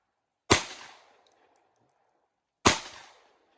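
Two loud pistol shots are fired at a range target, a G3C or G2C, about two seconds apart, each a sharp crack with a short ringing decay, and silence between them.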